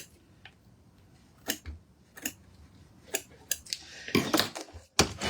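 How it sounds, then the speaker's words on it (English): Small scissors snip embroidery thread beside a Brother V5 and Luminaire embroidery machine, a handful of sharp, separate clicks spaced irregularly, followed by a quick cluster of snips near the end, close and fairly quiet. "just need to trim that a little bit"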